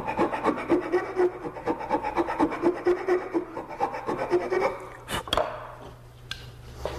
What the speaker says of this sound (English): I file the tenon round with a bastard file.